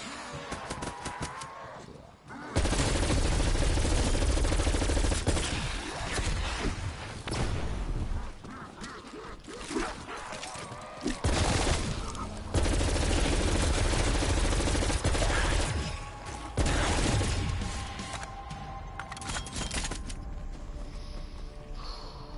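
Rapid automatic bursts from the FARA 83 rifle in Call of Duty Zombies, loud and close, firing in several sustained volleys separated by short pauses across the stretch.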